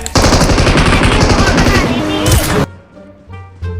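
Rapid automatic gunfire in the mobile battle royale game PUBG Mobile, loud and close, a dense burst of shots that stops abruptly, followed by a few fainter distant pops.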